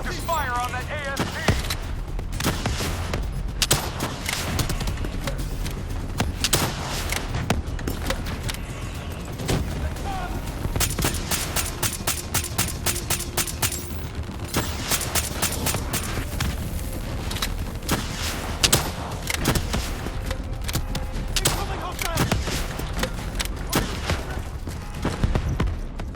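Dense, continuous gunfire from Call of Duty: Black Ops 3, with rapid automatic bursts, booms and layered shots filling the whole stretch, loud and close, while voices speak over the fighting.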